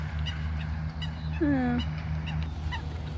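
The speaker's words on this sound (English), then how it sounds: "I think they're just Canadian geese" One loud, near honk from a Canada goose at a park pond stands out above steady low rumbling, with fainter honks and calls from other geese spaced around it.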